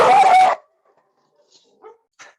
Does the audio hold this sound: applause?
no